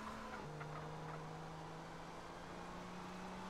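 A car engine in the SA-MP game held at steady revs to warm the tires, a faint continuous drone that drops slightly in pitch near the start and then holds level, with nothing else breaking the sound.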